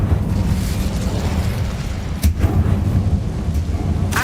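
An Incendio fire spell cast in Hogwarts Legacy: a dense, loud roaring rush of flame, steady throughout, with one sharper crackling burst partway through and a fainter flare at the end.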